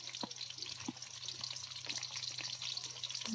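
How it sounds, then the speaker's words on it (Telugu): Onions frying in heated oil in a pan during a power cut, a steady close crackling sizzle with occasional stirring clicks. "కొంచెం వేడెక్కిందండి. ఇప్పుడు ఉల్లిగడ్డలు వేసుకుందాము."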